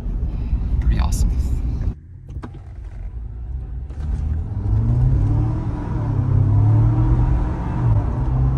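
A 4xE vehicle pulls away from a stop and accelerates to 45 mph, its drivetrain hum rising steadily in pitch and loudness after an initial rumble, with people talking over it.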